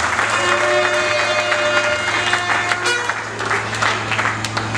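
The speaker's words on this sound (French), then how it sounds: "Je voudrais vous inviter à applaudir le président de la République" An audience applauds at a university academic closing and graduation ceremony, with sustained clapping that dips briefly near the end, mixed with crowd noise and a tonal hum in the background.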